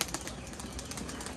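A burst of wing flapping from a pigeon with clipped wings, rapid and continuous for over a second, close by with no voices.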